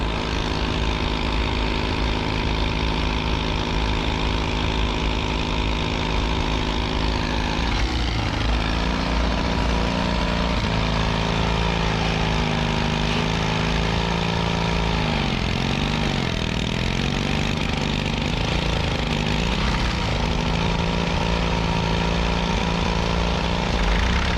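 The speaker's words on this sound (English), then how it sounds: "he's starting the big Caterpillar engine with a small donkey engine." A big Caterpillar engine is started with a small donkey engine at a Scottish vintage farming show, a steady loud mechanical drone that shifts pitch partway through and keeps running continuously.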